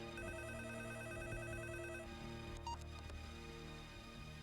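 A telephone rings with a repeating electronic trill over a background music bed, then a brief beep as the ringing stops.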